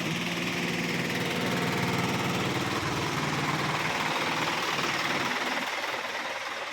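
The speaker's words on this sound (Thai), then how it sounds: "แต่ว่าเสียงเครื่องพี่แกจะนิ่มมากนะครับ ไม่มีเสียงเกียร์เหมือนรถใหญ่นะครับ" Isuzu truck's diesel engine idling, a steady, even rumble with a low knocking pulse that stays close and constant throughout, with no talking.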